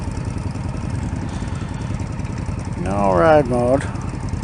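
An Indian Scout Bobber motorcycle engine idles with a steady low rumble, close by, while someone speaks briefly over it.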